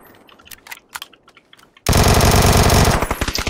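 Gunfire in a shooter video game: first quiet scattered clicks and short taps, then a sudden loud burst of rapid automatic fire that holds for over a second before breaking into separate sharp shots.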